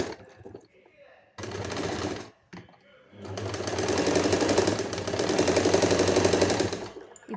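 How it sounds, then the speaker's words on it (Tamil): An overlock sewing machine stitches along the side slit of a kurti in loud, steady bursts: a short run, a pause, then a longer sustained whir with a dense motor buzz. "அதுலேயும் வந்துட்டு நம்ம ஓவர்லாக் பண்ணிக்கணும் 2 சைடு"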